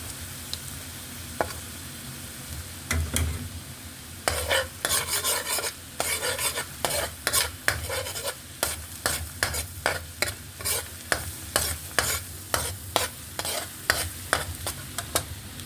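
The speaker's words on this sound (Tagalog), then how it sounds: "Antayin lang natin mag-brown yung ating garlic." Garlic sizzles in melted butter in a pan for a shrimp and crab sauté, with a steady frying hiss and regular, close scraping strokes of a spatula that become louder and more rhythmic partway through.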